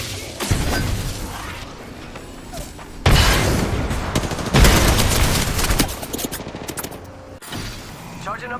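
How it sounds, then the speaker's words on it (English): Gunfire in the Apex Legends Wild Card mode, with dense bursts of automatic fire, booming impacts and explosions in sustained volleys through the stretch, loudest near the middle, with brief quieter gaps between exchanges. "they're shooting at me."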